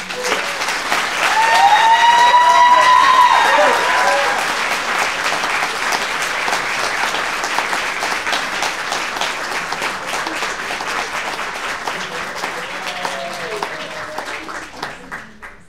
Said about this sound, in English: One more round of applause for Sara